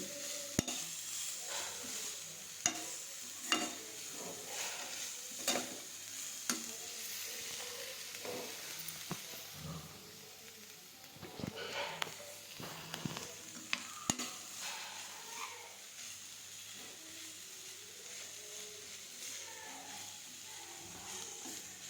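Dry fruits lightly frying in a pan while gujiya filling is prepared, a steady soft sizzle with frequent scraping stir strokes, close and continuous.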